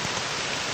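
Rain pours steadily at a beach, a dense even hiss of falling drops with no breaks and no other sounds over it.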